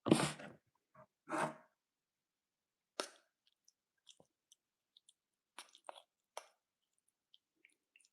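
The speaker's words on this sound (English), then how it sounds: "I'm eating mayo." Close-up chewing and biting of crunchy canned tuna mixed with mayo and cheese: a few loud crunchy bites at first, then sparse soft wet mouth clicks and smacks in near silence.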